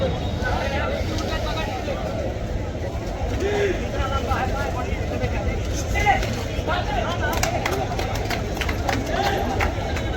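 Crowd chatter at a kabaddi match, a dense continuous hubbub of many voices with a nearby voice speaking over it and a few sharper bursts toward the end.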